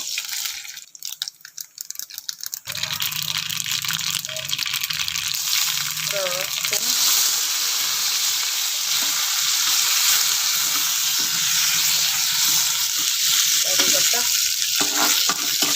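Tadka tempering with garlic sizzles in a pan for radish kanji, a loud steady frying hiss that bursts in after a quiet moment and continues, with faint talk and small clinks.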